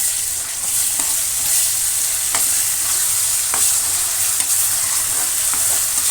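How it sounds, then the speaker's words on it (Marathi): A ground masala paste stir-fries in hot oil for soybean pulao, giving a steady close sizzle broken by light scraping strokes of a spoon, with no talking. "तर आपल्याला हे वाटण परतून घ्यायचं आहे।"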